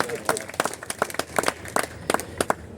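An audience at a Hindi comic poetry gathering claps in scattered, uneven bursts, with sharp individual claps over a murmuring crowd and a voice speaking.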